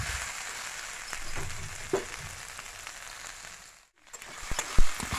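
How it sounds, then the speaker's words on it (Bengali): Parboiled potatoes fry in a pan for a simple vegetarian dish, giving a steady soft sizzle with a few light clicks and bumps, briefly dropping to near silence before resuming with louder stirring knocks. "তো এখন দেখো, এখনও ভাজছি আমি"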